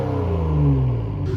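A close car engine, an Infiniti or a BMW, revs in a short burst, a deep droning growl whose pitch climbs and then settles, heard alone.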